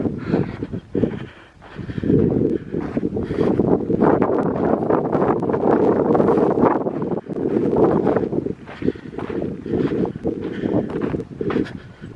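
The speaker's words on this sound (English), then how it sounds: "It's a little bit windy out here." Strong wind buffeting the microphone outdoors near a slot canyon in steady rumbling gusts, loud and constant, with no talking.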